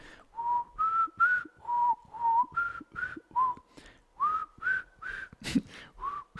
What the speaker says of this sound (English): if you're enjoying what you're doing, you might whistle while you work, right?